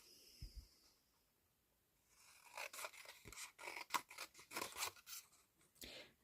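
Scissors cut around a paper pocket tag for a junk journal, a run of close, crisp snipping and rustling strokes following a quiet stretch with a few faint handling taps.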